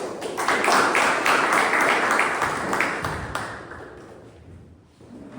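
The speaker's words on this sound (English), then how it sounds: "A big round of applause, please." Applause at a Toastmasters club meeting bursts out fairly full from a room of members, then thins and tapers off over several seconds, with a few scattered claps lingering as it dies away.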